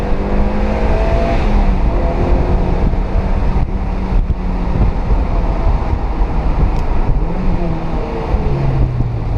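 A Mazda MX-5 NC's engine drones steadily after a downshift on a damp mountain road, close and loud with wind and road roar throughout.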